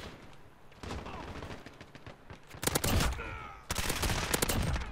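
Gunfire in Call of Duty: Modern Warfare, bursts of automatic fire and rapid shots in several loud clusters, the heaviest near the middle and end, with sporadic quieter shots between.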